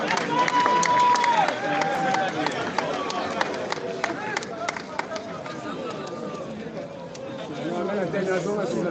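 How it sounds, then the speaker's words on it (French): A crowd at a tribute ceremony claps and cheers loudly and continuously, with voices and hubbub mixed through the ovation. "Est-ce qu'on peut applaudir très très fort pour la carrière, pour la vie de Maman Chako?"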